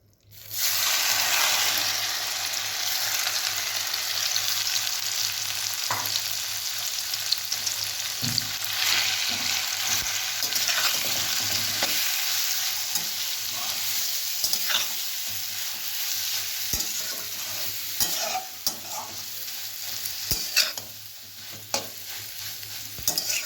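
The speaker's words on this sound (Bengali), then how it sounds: "এবার আমি এটিকে ভালোভাবে একটু ভেজে নেব কড়াইতে" A potato snack mixture fries in hot oil in a kadai over a medium gas flame, giving a loud, steady sizzle that runs throughout, with occasional stirring scrapes and crackles.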